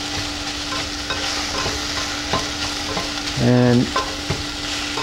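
Rosemary briefly sautéed in a hot pan makes a continuous close sizzle with light stirring. A short spoken word and a brief voiced tone cut in near the end.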